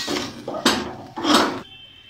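Hot and spicy spaghetti being mixed in a pan with a metal utensil, producing a few loud scraping clatters and clinks in quick uneven bursts, close up and with no voices.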